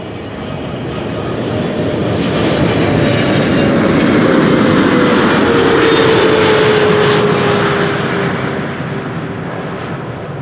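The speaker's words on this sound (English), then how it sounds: "Listen to the 777-300ER whir that you also hear when a 777 freighter passes by" Boeing 777-300ER jet passing over an airport with its characteristic engine whir, a loud broadband roar swelling and fading over ten seconds with a steady tone gliding down in pitch, no talk.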